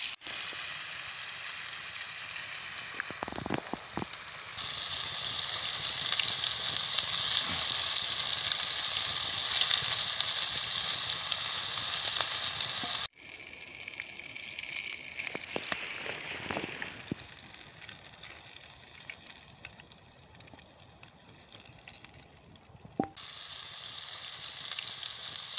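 Fish fries in oil in a pan over a three-log nodya campfire, giving a continuous bright sizzle and crackle with a few sharp spits and pops, steady throughout with a brief drop midway.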